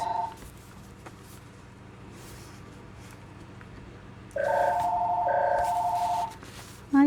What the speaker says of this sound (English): My phone's ringing again.